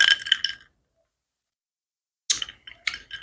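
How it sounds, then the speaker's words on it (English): Ice blocks in a glass of rum clink and rattle as the drink is stirred, a short burst of bright chinks, then a pause and a second cluster of clinks close by. "So I actually have some ice blocks in there with this rum. Now I'm gonna give it a little stir."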